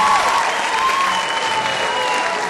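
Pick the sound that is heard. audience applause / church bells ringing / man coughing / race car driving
audience applause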